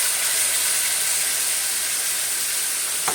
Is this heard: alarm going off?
no